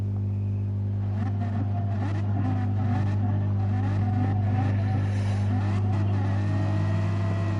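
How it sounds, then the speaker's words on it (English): A BMW M4 race car engine at Spa in a racing video game hums steadily with a low drone and rising revs, loud and continuous, with faint mechanical clatter layered on top. "The revs are up."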